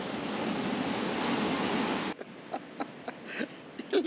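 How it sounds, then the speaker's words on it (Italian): Broadband roar of surf fills the first half, then cuts to quieter ambience with scattered knocks and brief rustling sounds. "Ascoltate il suono dell'oceano"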